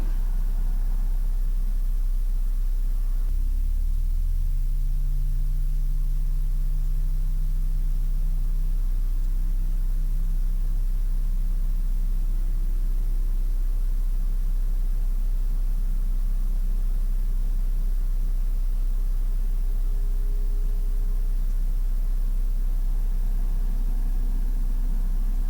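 A Challenger business jet's number 2 engine spins up during start, a low rising whine and rumble over steady cockpit noise and hum, with no talk.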